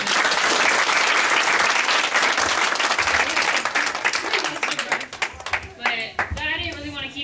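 An audience claps loudly for a group of dancers at a Valentine's dance event, dense applause that thins into scattered claps as a voice begins speaking over the end.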